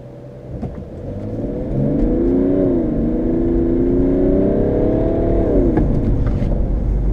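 BMW E90 335d with a twin-turbo inline-six diesel accelerating hard, a loud sustained engine drone that climbs steadily in pitch, dips at a gear change and pulls again.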